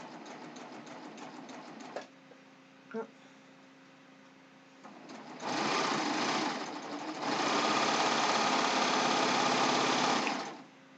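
Serger overlock machine sewing and trimming fabric for a ruffled pillowcase, running in two loud sustained bursts with a brief pause between, after quieter talk and small handling clicks.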